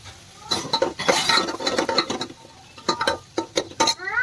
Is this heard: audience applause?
no